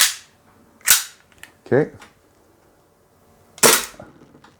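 A G&G GPM1911 gas blowback airsoft pistol fires three sharp, loud cracks spaced out over a few seconds outdoors, with a voice speaking briefly between shots.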